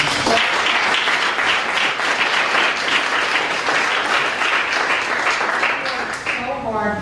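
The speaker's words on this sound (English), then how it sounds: "Gary Preston deserves a round of applause." An audience at an evening meeting gives a sustained round of applause, dense steady clapping from many hands that fades near the end as a voice resumes speaking.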